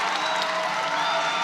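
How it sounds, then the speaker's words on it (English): A crowd at a college gymnastics meet applauds and cheers in a dense, continuous wash of clapping and voices, loud and sustained for the whole short stretch. "if you hear the crowd in the background"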